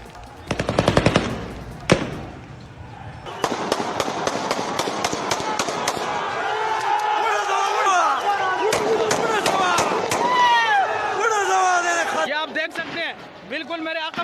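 Gunfire during a protest in Peshawar, with rapid bursts of sharp shots, single cracks and then a sustained rattle of repeated reports, while a reporter talks urgently over the noise of the crowd.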